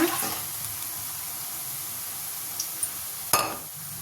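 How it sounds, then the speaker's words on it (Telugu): Mashed dal and tomatoes hit a hot pan with a steady, moderate hiss of frying that continues throughout, broken only by a brief clink of a utensil near the end. "ఇప్పుడు టమాటాలు వేసి పప్పు ఇందులో వేసేస్తున్నా"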